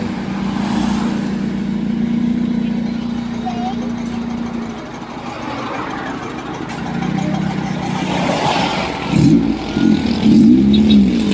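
A dragster engine revs to warm up during race prep, with a loud steady rumble and rising throttle blips toward the end, heard under people talking nearby.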